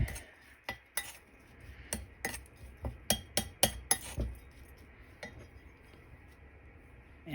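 A spoon scrapes and clinks against a bowl while seasoned beans are mixed with salt, producing a series of sharp, uneven taps clustered in the first four seconds, then fewer, sparser knocks before a quiet finish.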